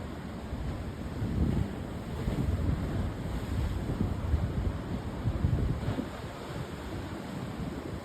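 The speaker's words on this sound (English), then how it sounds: "the waves pounding against the rocks here." Ocean waves pound against sandstone rocks on the coast at Terrigal, New South Wales, at sunrise, a steady churning roar of surf with gentle swells, heard alone and mixed with light wind on the microphone.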